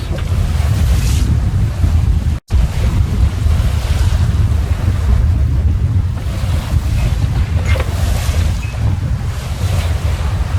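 Steady roar of wind and rushing ocean water around a sailboat under autopilot at about 6 knots near Middle Percy Island, with heavy low buffeting and a brief dropout midway.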